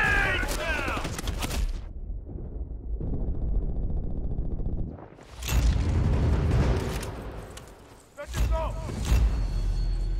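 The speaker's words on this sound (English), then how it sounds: "Grenade!" Grenade blasts in a video game come as loud broadband bursts, one at the start, another around five seconds and a third near eight seconds, each with a long rumbling tail, amid dense battlefield noise.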